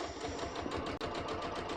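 Sewing machine stitching pants: a steady rapid mechanical chatter of needle strokes, close and continuous, with one brief dip in the rhythm.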